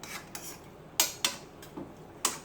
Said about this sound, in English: Now, let me go back to the spinach. Keep it stirred.